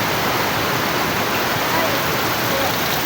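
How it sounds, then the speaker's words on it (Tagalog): Heavy rain and rushing floodwater outside a house gate in Rizal make a dense, steady roar of water, close and fairly loud throughout with no break. "Tingnan natin kung gaano kalakas yung baha doon."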